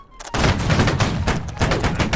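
Musket volley fire in the game Holdfast: Nations At War, a burst of many loud, overlapping gunshots crackling in rapid succession, with a short quiet break before a second ragged wave of shots.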